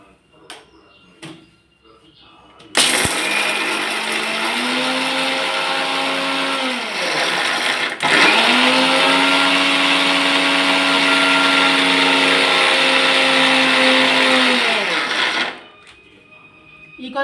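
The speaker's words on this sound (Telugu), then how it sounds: "ఇప్పుడు మనము మిక్సీలో ఫస్ట్ శనక్కాయలు వేద్దాం. శనక్కాయలు, ఎండుమిరపకాయలు వేసి మళ్ళీ తెల్లగడ్డలు వేద్దాము" A kitchen mixer grinder whirs loudly as it grinds peanuts, dried red chillies and garlic, running in two long bursts with a brief pause between, the motor pitch sagging as it spins down.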